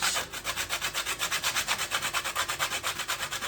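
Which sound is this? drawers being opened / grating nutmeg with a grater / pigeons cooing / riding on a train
grating nutmeg with a grater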